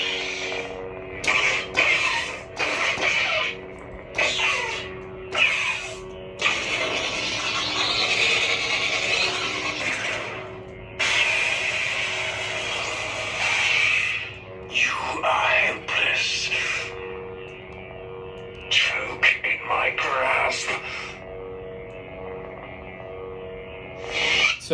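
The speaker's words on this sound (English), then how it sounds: "there's several effects there. Blasters, lockup, clashing, force effects, play quotes, and have blade effects like what you saw there" Neopixel lightsaber with a Proffieboard v2.2 in a Master Replica Darth Maul saber, firing a quick run of effects: sharp bursts, sustained crackling hiss stretches, and repeated short clashes over a steady low hum, loud and close.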